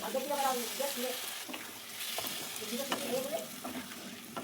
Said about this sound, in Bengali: আর দিচ্ছি ভাজা জিরে গুঁড়ো দিয়ে কষিয়ে নিচ্ছি ভালো করে